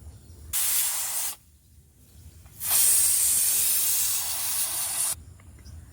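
A pressure cooker boiling potatoes vents steam through its whistle in two loud, hissing bursts, the second one long and sustained, over a low background rumble.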